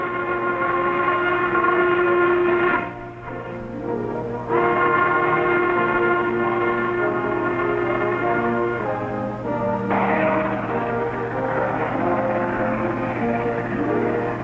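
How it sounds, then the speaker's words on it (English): A coal freight train hauling bituminous coal rolls along the railroad in a 1940s setting, a loud, steady rumble that runs without a break and briefly dips before building back up, with tonal whistle-like lines through it. "trains rushed toward the sea with their cargoes of black diamond"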